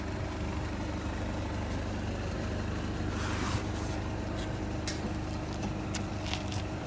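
A truck engine idles steadily in the background while a 2.5 ton rooftop HVAC package unit is loaded onto it, a constant low rumble with a few brief clanks and knocks on top.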